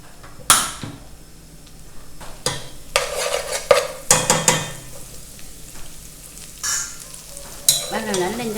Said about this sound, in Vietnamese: mình cho vào đây mình phi lên cho nó tạo có cái độ màu thơm, cho nó thơm lên ha